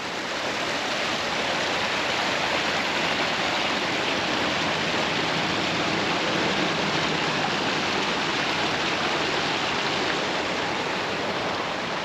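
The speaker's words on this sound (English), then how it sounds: "Cool little waterfall." A small outdoor waterfall pours in a steady, dense, even rush of water that fills the whole stretch without pause.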